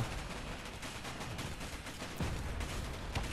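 Rocket launchers in Space Engineers pound a ship, giving a steady, fairly faint roar of rapid impacts and firing, with a few heavier thuds standing out partway through.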